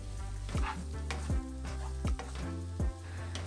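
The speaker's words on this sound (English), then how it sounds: "add your onions and mix" Onions fry with browned Spam in a pan for kimchi fried rice, a constant close sizzle broken by four regular stirring scrapes, with no one talking.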